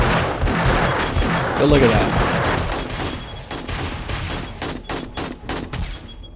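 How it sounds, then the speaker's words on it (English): Sniper turrets fire repeatedly in the video game 7 Days to Die, a dense run of sharp gunshot bursts, loud and close, with rapid cracks late on, partly under someone talking. "It looks like the sniper turret might actually be hitting this turret because of how they're lined up."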